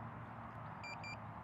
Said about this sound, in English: And you hear that annoying beep, and the drone is ascending now